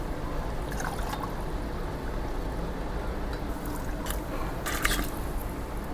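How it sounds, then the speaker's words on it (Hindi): Steady, close pouring and trickling of water into a cooking pot of beef pulao, a continuous liquid wash with a few brief splashy ticks near the end. "मैं इसके अंदर पानी भी डाल रहा हूँ"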